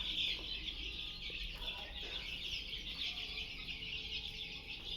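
Chickens cluck softly in a farmyard, the calls faint and scattered over a steady hiss of background noise, with no speech.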